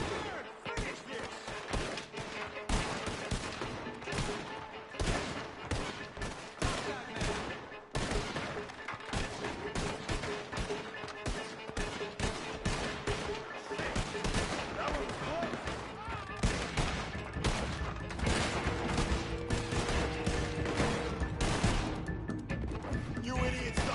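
A Red Dead Redemption 2 shootout roars with rapid, overlapping gunshots and volleys, loud and nearly nonstop, with voices shouting amid the gunfire.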